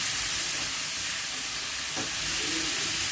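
Capsicum and corn fry in a hot pan with a steady, loud sizzle and a brief stirring scrape partway through, no voices.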